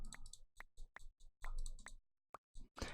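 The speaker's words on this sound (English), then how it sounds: "So apologies for the probably constant clicking noise." A computer mouse clicks repeatedly while shift is held during a game session: a string of quiet, sharp, irregular clicks with short pauses between them, close up and with no talking.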